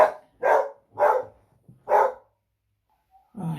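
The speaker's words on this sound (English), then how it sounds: "The dog's gonna bark because the post." A dog barks loudly at the postman, four sharp close barks in a quick, fairly even rhythm, then a pause and a fifth bark starting at the end.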